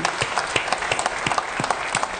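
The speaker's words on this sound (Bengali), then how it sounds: "তাদেরকে আমরা একটা জোরে হাততালি দিই" Audience giving a loud round of applause at a Bangladeshi event honoring helpers, brisk dense clapping with sharp individual claps popping out, close and continuous throughout.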